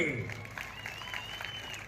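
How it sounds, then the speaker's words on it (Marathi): Faint, distant clapping from a crowd at a wrestling match in Baramati, brief and fairly steady, with a murmur of voices underneath. "करा की टाळ्या सगळ्यांनी"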